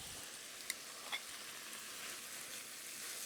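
Italian sausage sizzling in a skillet with green, orange and yellow peppers, a steady, quiet frying hiss with a couple of brief clicks, no talking.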